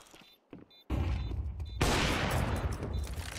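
Gunfire in Counter-Strike on the Anubis map during a professional esports match, with a few sparse shots and then a sudden loud burst of rapid sustained firing that continues to the end.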